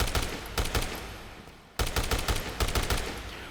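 Firearm gunfire in the video game Dead Rising Deluxe Remaster, rapid bursts of loud shots in quick rhythmic clusters, a short pause, then more bursts.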